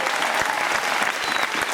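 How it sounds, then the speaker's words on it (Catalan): An audience claps at a summer camp concert, a dense burst of applause from a crowd that stays steady and fairly loud across the short stretch. "un fort aplaudiment"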